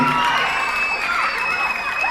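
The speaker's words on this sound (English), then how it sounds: "Let's give all of our contestants a round of applause." A school audience at a third- and fourth-grade spelling bee claps and cheers, with children shouting and whooping. The sound is a dense, loud burst of crowd noise that continues throughout.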